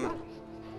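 Mabari war hound in Dragon Age: Origins giving a short whimpering bark-like yip, close and brief, with a voice mixed in.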